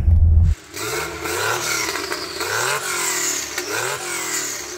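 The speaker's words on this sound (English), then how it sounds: "So Becky, would you mind revving it up so we can hear it?" A Porsche 911 Turbo engine revs repeatedly, each blip rising sharply in pitch and falling back, loud and close, after a brief low rumble at the start.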